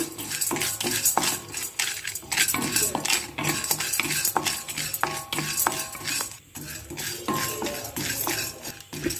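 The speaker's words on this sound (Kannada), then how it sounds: "ಎರಡು ಚಮಚ ಆಗುವಷ್ಟು ಕಡಲೆಬೇಳೆ ಹಾಕ್ತಾಯಿದ್ದೀನಿ ಇದನ್ನು ಚೆನ್ನಾಗಿ ಹುರ್ಕೋಬೇಕು" Chana dal is roasted in a pan and stirred continuously, a busy stream of close metallic scraping and clinking of a spoon against the pan with brief pauses.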